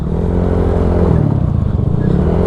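A motorcycle fitted with RCB mag wheels rides a mountain road during a hot Holy Week trip, its engine droning loud and close with a steady low rumble and slight revving throughout.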